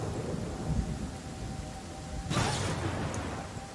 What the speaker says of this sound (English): What if this rain ever goes away